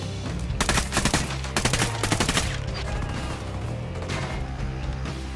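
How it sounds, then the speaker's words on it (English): Heavy gunfire in the Ghost Recon Wildlands video game: loud, rapid automatic bursts crack over a dense, constant battle din, with no voices. "Taking cover from heavy fire"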